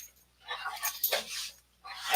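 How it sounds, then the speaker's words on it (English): Puppies playing, giving short high whimpers and yips in a few bursts separated by brief pauses, fairly faint and close, with no clear talk. "I've been here watching the puppies play and letting them be on camera for a little bit."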